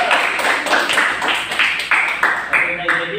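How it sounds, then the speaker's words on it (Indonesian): A class applauds a student group after its presentation, a handful of people clapping in loose, uneven bursts at close range, with some chatter underneath. "Tepuk tangan dulu untuk kelompok 2"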